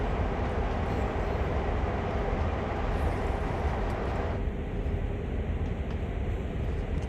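A CSX GP38-2 diesel locomotive in the Train Sim World game running a terminal switch on the NEC New York route, a steady loud engine drone and rolling rumble throughout.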